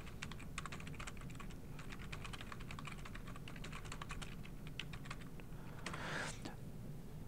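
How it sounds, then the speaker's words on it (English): Steady, rapid typing on a computer keyboard while entering a paragraph in a word processor, a dense run of light key clicks with brief pauses and a single louder keystroke near the end, close and clear. "if I continue typing on this first paragraph"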